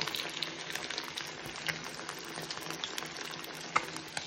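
Fish pan-frying in shallow oil gives a steady, close crackling sizzle, broken by scattered sharp pops and spits.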